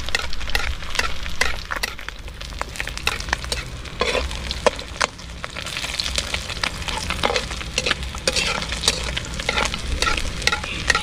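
Kaling-kaling fritters frying in hot oil while being stirred and doused to crisp, giving a close, continuous sizzle broken by irregular clacks and scrapes of the utensil against the pan.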